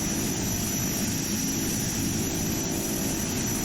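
Twin propeller engines of a de Havilland DHC-6 Twin Otter on final approach in the GeoFS flight simulator, a loud, steady droning roar that fills the whole stretch without any break or voices.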